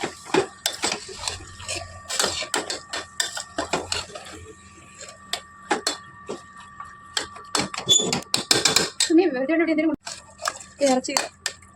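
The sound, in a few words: stirring beef curry with masala in a pot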